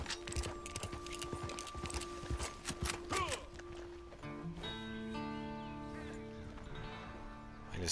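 A horse's hooves clip-clop in a quick, steady rhythm in a video game, fairly close. After a few seconds the hoofbeats give way to sustained tonal game sounds and music.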